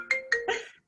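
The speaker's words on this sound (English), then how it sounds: "My phone just rang." A phone rings indoors with a few quick tonal ring bursts in a row, moderately loud and close, with no talking over it.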